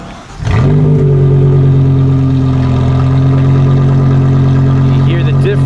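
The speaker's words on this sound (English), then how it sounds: "All right, let's get a start up with the valves open." A car with a loud exhaust and its exhaust valves open starts up after a brief crank. It quickly settles into a loud, steady, deep idle that holds close and continuous to the end.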